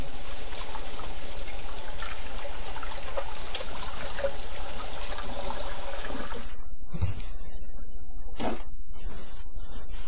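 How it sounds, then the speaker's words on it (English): Tap water running steadily and loudly while hands are washed, then cutting off to leave a few scattered knocks and clicks, no speech. "But wash my hands for a second."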